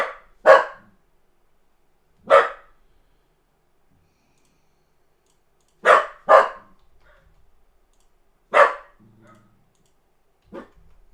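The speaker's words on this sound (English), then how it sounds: "Maxie, what are we barking at, guy?" A dog barks in short, sharp bursts, six or so spaced irregularly, loud and close with quiet gaps between.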